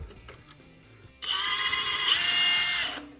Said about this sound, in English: So I have to waller that hole out with the drill.